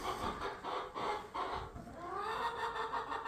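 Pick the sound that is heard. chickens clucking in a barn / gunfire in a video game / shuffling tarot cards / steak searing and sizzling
chickens clucking in a barn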